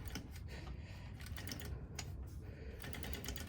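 A sewing machine runs in a steady, fast rattling burst while back stitching to close a hole in a waistband, close and continuous with brief stops and restarts.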